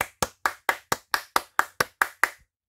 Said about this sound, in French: tout en les applaudissant.